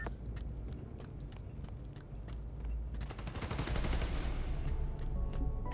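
Gunfire in the Spider-Man: Miles Morales video game, rapid bursts of shots that build into dense, continuous automatic fire toward the end, mixed with game effects and no talking.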